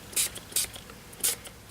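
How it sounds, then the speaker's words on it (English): Three short hissing bursts of Sheer Shimmer Sparkle spray mist onto card pieces, close and fairly quiet, with small handling noises in between. "So now I am going to take sheer Shimmer. This is in Sparkle, and I am just going to spray these"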